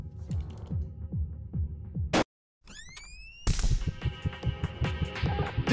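A shotgun blast in the video game Buckshot Roulette: one sharp, loud burst cuts through a steady pattern of rhythmic thumps, followed by a brief silence, rising tones, then a dense burst of noise. No one talks.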